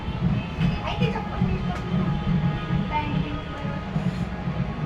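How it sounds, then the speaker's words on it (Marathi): A metro train runs past during a Ganesh arrival procession, its steady rumble carrying through the whole stretch under crowd noise and people talking. "मेट्रो बघा आपली"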